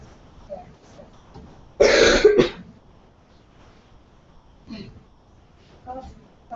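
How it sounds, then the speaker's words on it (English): A sudden burst of harsh coughing, close and loud, followed by quieter breaths and faint throat sounds. "cough, cough, cough."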